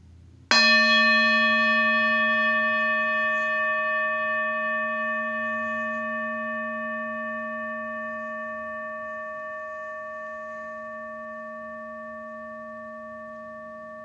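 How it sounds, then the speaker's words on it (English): A meditation bell is struck once, ringing out with a clear, sustained tone that slowly decays over about fourteen seconds in an otherwise quiet room. "I'll sound the bell and I'll start to guide us through the meditation."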